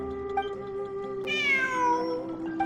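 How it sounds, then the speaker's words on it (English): A video game cat gives a single clear, drawn-out meow with a falling pitch, close and distinct over a steady tonal music background. "It really is a cat."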